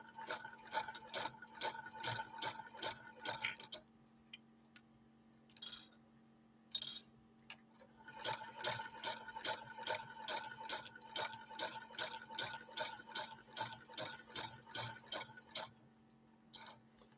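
A rare 1948 Frister & Rossmann sewing machine stitches 100% cotton with no stiffener, giving rapid, rhythmic mechanical clicking in steady runs, broken by a few short pauses and isolated bursts, close and fairly quiet.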